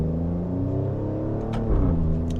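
A 2024 Alfa Romeo Stelvio Quadrifoglio's exhaust through upshifts, a steady low engine drone with smooth shifting tones, a brief step up in rumble near the end, up close from inside the car.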